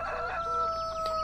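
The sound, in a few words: chickens clucking in Farming Simulator 2013 video game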